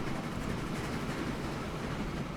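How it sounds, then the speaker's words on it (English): A train runs in the railway-building game Train Fever, a steady broadband rumble and rolling noise with no clear clacks, holding even throughout with no voices. "So there's our first train"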